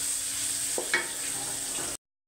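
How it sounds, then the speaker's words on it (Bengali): Garlic, onion and green chillies sizzle steadily in hot oil for radish greens, loud and close, with a couple of brief scrapes of a spatula midway before the sound cuts off. "পেঁয়াজটা ভাজা ভাজা হয়ে গেল"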